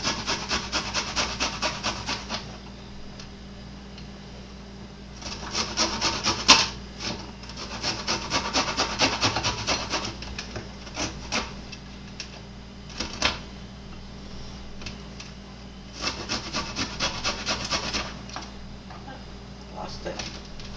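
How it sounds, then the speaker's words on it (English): Garlic cloves rubbed across the fine side of a kitchen grater, a close rasping scrape repeated in rhythmic bursts of quick strokes with short pauses between. "when I grate my garlic, I use this side here, the real small part, and I just take the garlic and rub it right across"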